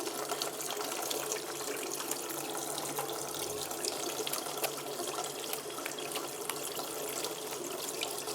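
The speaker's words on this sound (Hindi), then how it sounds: "सबसे पहले आप हाथों को थोड़ा सा गीला कर लें। साबुन अच्छी तरह से हाथों पे लगाएं।" Tap water runs steadily into a sink while hands are washed with soap, a constant close splashing hiss heard alone with no speech.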